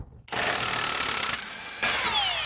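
Power tool whirring on the rear shock nut of a Ford Flex, a loud close burst that eases briefly and then surges again.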